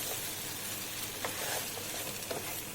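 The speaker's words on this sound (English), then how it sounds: "We'll saute this on a medium flame." Pasta sautés in melted butter over a medium flame, giving a dense, continuous close sizzle with faint stirring scrapes.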